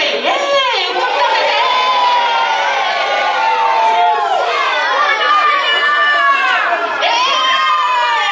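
A theatre audience of children shouts and cheers together at a performance, many high voices yelling in loud overlapping waves that swell and ebb across several seconds, close and crowded.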